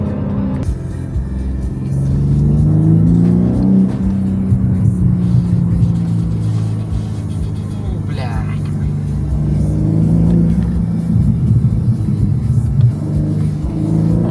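Car engine humming and building revs as the vehicle drives on the road, heard from inside the cabin under near-constant conversation between occupants.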